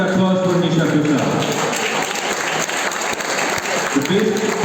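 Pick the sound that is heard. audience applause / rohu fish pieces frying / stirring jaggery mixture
audience applause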